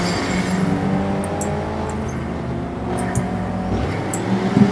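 A race car engine revs steadily in the video game Blur, a continuous loud motor drone with tire noise, no voices.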